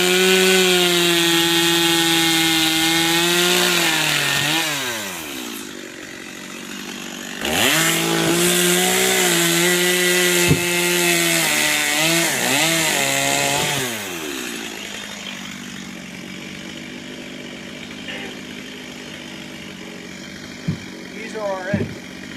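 A chainsaw trims excess cedar wood off a garden planter bed. The engine's loud, buzzing whine revs up and drops back several times as the chain bites through the wood, then it idles and winds down.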